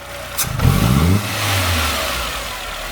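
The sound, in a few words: Renault Sandero 1.0 8V engine revving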